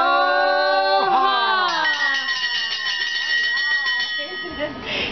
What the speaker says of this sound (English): And ring the bell from San Francisco for good luck.